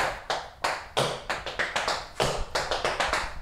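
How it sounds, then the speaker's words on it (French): Tap shoes strike a hard floor in quick, uneven clusters of sharp clicks, close and clear, with no voices. "on va entendre que les claquettes."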